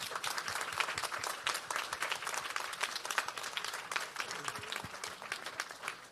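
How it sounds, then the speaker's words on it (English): A conference audience applauds caregivers with sustained, dense clapping that holds evenly for several seconds before easing slightly at the end. "another round of applause for all the fantastic caregivers here"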